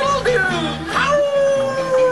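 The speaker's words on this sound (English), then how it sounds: "Can't you do anything but howl, you stupid dog?" A dog howls in long, drawn-out wavering tones, fairly close and clear, with the pitch sliding down over a couple of seconds.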